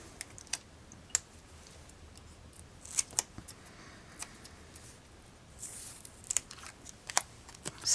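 Score tape backing peeled away during paper crafting of a mini album, heard as a run of soft crackly tearing and ticking sounds, close and quiet, with scattered sharp clicks and a longer rustle in the middle.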